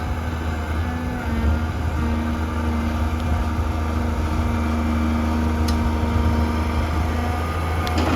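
A Komatsu PC200-3 excavator digging out rubber tree stumps, its diesel engine running at a steady low, moderate throttle with a constant hum and faint mechanical rattles, close and continuous throughout with no voices.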